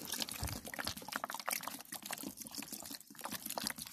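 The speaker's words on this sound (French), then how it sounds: "Ensuite, j'arrose, je mets de l'eau." Water poured from a bottle onto the soil of a potted cheese-scented vine (Paederia lanuginosa), a steady close splashing and trickling that runs without a break and with no talk.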